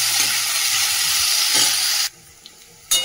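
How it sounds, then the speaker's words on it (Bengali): Potatoes fry in a pan with onion and two green chillies, making a loud, continuous sizzle that cuts off abruptly near the end before briefly resuming. "আলু ভাজাটা হোক।"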